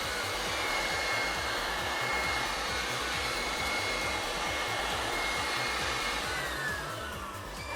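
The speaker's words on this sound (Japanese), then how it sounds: "両備のこちらブロワー使いました。" An electric blower used to dry a car after washing roars in a steady, loud, continuous rush of air, close up and alone with no talking.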